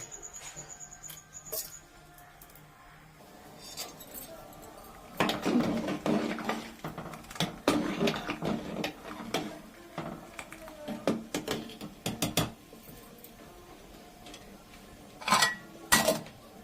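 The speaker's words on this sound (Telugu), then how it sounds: "ఈ బియ్యం కడిగేసి ఎసట్లో వేసేస్తానండి" Rice is washed in a metal pot, with irregular clinks, knocks and watery swishing, near and moderately loud, interspersed with pauses.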